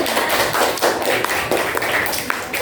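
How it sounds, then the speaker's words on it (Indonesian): A classroom group breaks into applause, dense overlapping hand claps that carry on steadily at close range for a few seconds. "tepuk tangan untuk"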